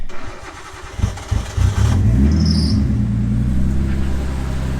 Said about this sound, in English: all we have to do is start the car with the key